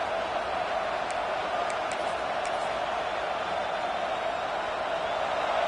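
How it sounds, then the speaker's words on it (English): A steady, dense roar from a full stadium crowd at an LSU versus Arizona State college football game, loud and sustained without pause for several seconds, with a few brief high whistles or shrieks rising out of the wash. "This crowd, full throat, splitting the eardrums"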